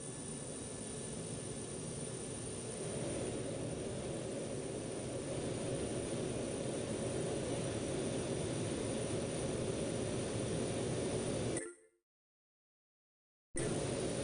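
Jet aircraft taking off from runway 4 at Ronald Reagan National Airport, a steady loud broadband engine roar that holds for about twelve seconds, then cuts to silence before resuming abruptly.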